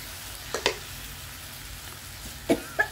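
Large deveined shrimp fry in a pan for a holy basil stir-fry, making a steady close sizzle broken by a few sharp spattering pops near the start and end.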